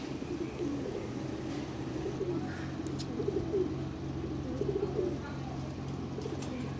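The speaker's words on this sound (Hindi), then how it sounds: "ये देखिए हरी आँख का कबूतर है, बिल्कुल ग्रीन आइज है इसकी" Green-eyed Dobaaz Madrasi black pigeon cooing, repeated low throaty coos close by over a steady background hum, with faint voices now and then.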